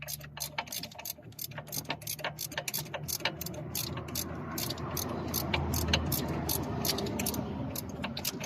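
A 13 mm socket on a ratchet works a clutch slave cylinder bolt on a Nissan Almera, giving a rapid train of light metallic clicks up close over a low background rumble in a garage.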